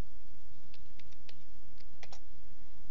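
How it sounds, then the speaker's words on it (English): Light clicking keystrokes on a computer keyboard as numbers are entered into a spreadsheet cell, a handful of scattered taps over a steady background hiss, with no voices. "I click on this cell, and then I type and I hit enter."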